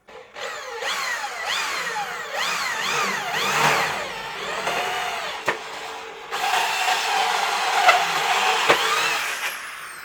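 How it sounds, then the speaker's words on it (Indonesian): A DongCheng DJZ10-10 electric drill whines and bites into 1.8 mm thick hollow metal in repeated bursts, its pitch rising and dipping as it spins up, with a few clicks between. "Senang saya ngebor begini."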